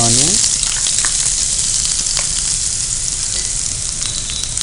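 Cumin, garlic, green chillies and onion frying in hot oil for bitter gourd kandari, a loud steady sizzle that bursts up at the start as they hit the pan, then a continuous crackling hiss.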